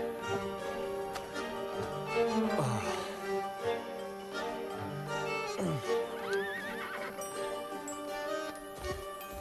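A horse whinnies in several drawn-out neighs over a bed of clip-clopping hooves, with light jingling tack, all fairly close and with no voices present.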